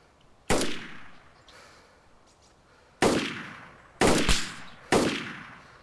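Four sharp, loud gunshots in an online PC shooter game, each a crisp crack with a decaying echo tail, spaced irregularly with the last three coming in quicker succession.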